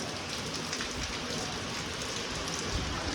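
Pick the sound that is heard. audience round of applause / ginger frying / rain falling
rain falling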